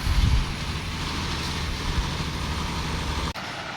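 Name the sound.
logging truck passing by on road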